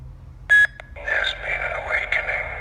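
A LordBlako-style Force Awakens lightsaber soundfont plays: a short bright beep-like ignition burst, a brief click, then a steady, buzzing electronic hum with gentle swells, close and fairly loud, with no talking.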